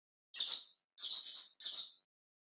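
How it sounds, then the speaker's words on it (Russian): A swallow chirps three times in short, bright, high-pitched bursts separated by brief pauses, close and clear against silence. "Ласточка."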